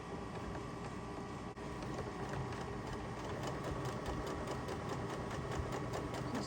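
A sewing machine stitching the ends of quilt strips together for a quilt, a fast, even mechanical chatter running nearby and continuously, with no voices.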